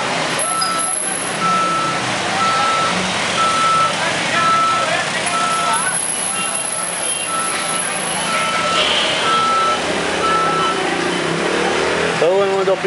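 A large articulated tractor-trailer truck reverses through the narrow streets of Siloé, its reversing alarm beeping in a steady repeated rhythm over loud engine rumble, with voices in the background.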